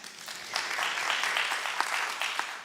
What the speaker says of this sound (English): one more clap for them.